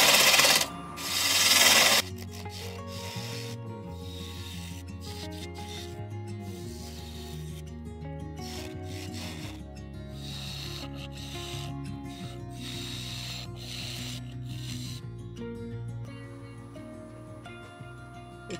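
A woodturning gouge cuts a small box elder vase on a lathe, giving a continuous close rubbing, scraping hiss over the low motor hum after a brief louder burst at the start.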